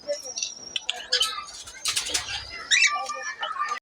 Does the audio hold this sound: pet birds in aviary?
yes